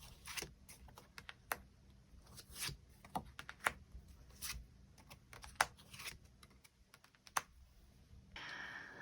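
Tarot cards shuffled and drawn for a reading: a string of soft, papery clicks and slaps at an irregular pace, fairly close but quiet, with a steadier rustle toward the end.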